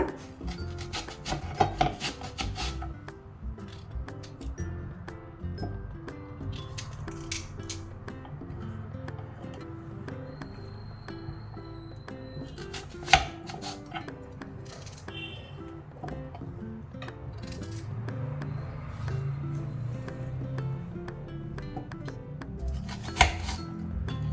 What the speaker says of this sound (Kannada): ಈರುಳ್ಳಿ ಕಟ್ ಮಾಡ್ಕೊಳ್ಳೋಣ.